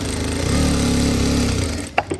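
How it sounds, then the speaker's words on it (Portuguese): Electronic straight-stitch sewing machine set to stitch length 2, running steadily and sewing short stitches, a close rapid mechanical whir with even rhythm that stops near the end. "A máquina fez esse pontinho pequenininho"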